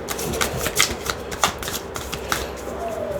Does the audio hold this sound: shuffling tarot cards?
yes